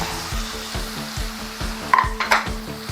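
Onion and ginger-garlic paste sizzle in hot oil for an egg roast while a spoon scrapes the pan in a steady repeating rhythm, with a couple of louder metallic clinks, close up and with no talking.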